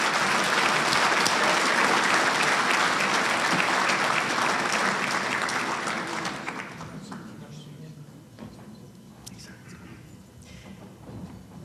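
A large crowd at a Marine Corps Association awards dinner applauds loudly and steadily, then the clapping thins out and fades into scattered claps and room noise.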